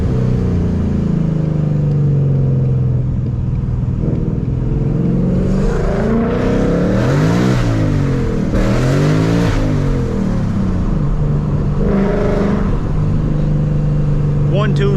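A Vortech-supercharged Ford Mustang accelerates hard on the street, its engine note climbing in repeated rising sweeps through the gears. It is loud and close, with a rumbling idle before and after the pulls.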